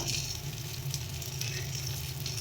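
Ground spices (turmeric, cumin, coriander, red chili powder) sizzling and frying in a pan for an eggplant and dried fish curry, a steady close hiss throughout.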